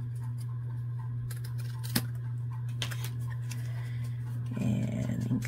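Scissors trim paper for a craft project, producing a few crisp snips and a short rustling cut near the end over a steady electrical hum.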